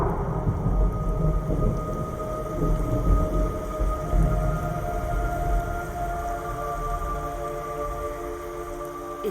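Heavy rain falls with rolling thunder in the video game Metal Gear Solid Delta, a constant dense wash with low rumbles and faint tonal drones underneath, no voices.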